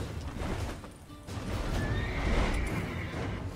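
A horse in The Witcher 3 whinnies loudly and close, with hoof clip-clops and game sounds, no one talking.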